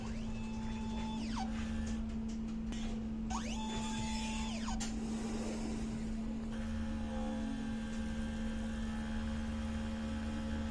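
An inkjet printer runs its head cleaning cycle, its motors whirring and sweeping up and down in pitch over a steady electrical hum, close and continuous.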